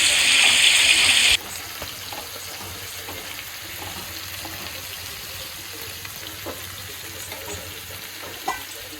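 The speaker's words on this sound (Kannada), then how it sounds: "ಮೀನಿಗೆ ಮಸಾಲೆ ಎಲ್ಲ ಹಚ್ಚಿ ಒಂದು ಅರ್ಧ ಗಂಟೆ ಇಟ್ಬಿಟ್ಟು ಅದನ್ನು ತವಾ ಫ್ರೈ ಮಾಡ್ಕೋಬೇಕಾಗುತ್ತೆ ಸ್ವಲ್ಪ ಎಣ್ಣೆ ಹಾಕ್ಬಿಟ್ಟು" Masala-coated fish tawa-frying in a little oil, a loud bright hiss at the start dropping to a steady soft sizzle with faint crackles and occasional clinks, no talking.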